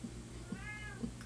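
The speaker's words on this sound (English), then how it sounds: "Can y'all hear Biscuit meowing" A cat meows once, a short rising-and-falling call that is fairly faint, alone with no talking over it.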